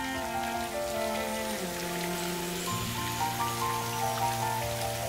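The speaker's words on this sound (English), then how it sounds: "Raindrops." Steady rainfall of raindrops pattering on surfaces, a continuous soft hiss beneath sustained background music, with no voices.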